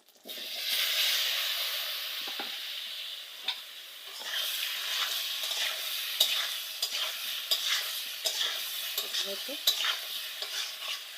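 Boiled elephant foot yam fries with chili, bay leaf and cumin, giving a loud, steady sizzle and hiss that rises at the start, broken by scattered scrapes and clicks of stirring.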